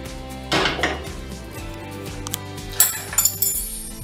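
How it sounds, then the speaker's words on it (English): Simmered wheat gluten vegan chicken being shredded in a pot, with utensils clinking and scraping against the metal in short bursts, a louder flurry early on and a few sharp knocks near the end. "We're gonna see if we can shred this now."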